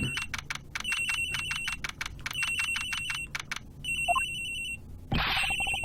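A telephone in the Ace Attorney Investigations video game rings in rapid repeated electronic trills, bursts separated by short gaps, loud and close, with a sharp game effect near the end.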